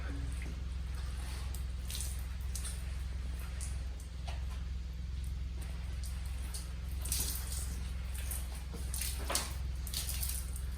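Clean water is doused over a concrete worktop in a workshop, giving scattered splashing and dripping bursts over a steady low electrical hum.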